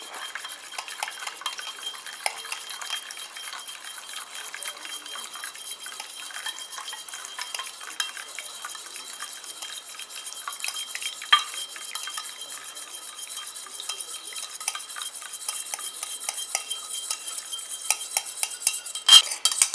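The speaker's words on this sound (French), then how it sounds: "je rajoute mon lait d'avoine tout en mélangeant" Oil phase stirred by hand in a small container as oat milk is poured in to emulsify a thick hand cream, giving a steady light scraping and clinking of the utensil against the bowl, close and continuous, with no talk.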